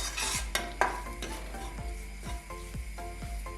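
Garam masala, chilli powder and pepper fry gently in a pan for a Kerala chicken curry, with a soft steady sizzle and a spoon scraping and stirring in a slow repeated rhythm, close up.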